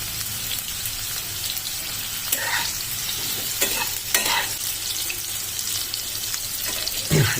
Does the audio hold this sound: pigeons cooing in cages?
no